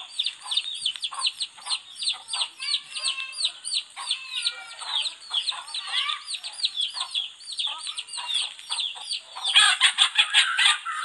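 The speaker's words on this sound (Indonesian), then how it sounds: "Ayam ayam guys." Chickens cluck steadily in busy, overlapping bursts close by, with a louder rooster-like crow breaking in near the end.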